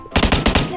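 A rapid, close burst of automatic gunfire in the video game PUBG Mobile, about six sharp shots in under a second, loud and alone.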